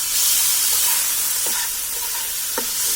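Food frying in a pan on a stove, a steady loud sizzle and hiss running throughout with a few faint clinks of stirring.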